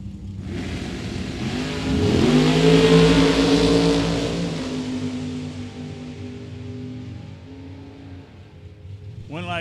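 Drag racing cars, including a Camaro, roar off the line at Mid Michigan Motorplex, a loud engine surge that swells, peaks and slowly fades into the distance, with brief talk near the end.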